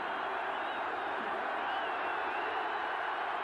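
A stadium crowd roars steadily and loudly throughout, with no pauses, at a 1988 college football game between Arizona State and Nebraska.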